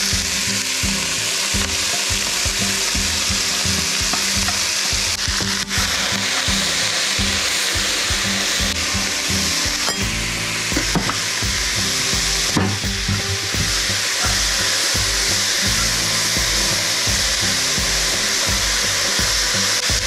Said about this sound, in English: And I'm gonna let this cook down